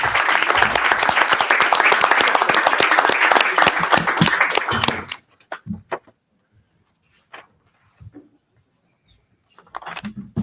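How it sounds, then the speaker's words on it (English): An audience applauds a presenting team at a datathon session, a loud, dense burst of clapping lasting about five seconds before stopping sharply, followed by scattered faint knocks and shuffles in a quiet room. "Applause for them."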